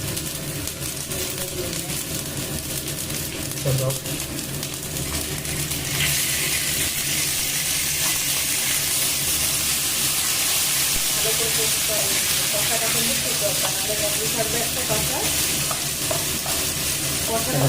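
Ginger and turmeric fry in a pan, a loud, constant sizzle and hiss that intensifies partway through, broken by scraping as the mixture is stirred, with faint voices in the background.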